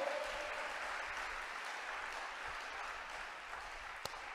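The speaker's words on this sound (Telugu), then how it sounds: "చప్పట్లు కొట్టు" Congregation clapping during a Telugu church sermon, a faint, steady wash of distant applause that holds evenly throughout, with one brief sharp knock near the end.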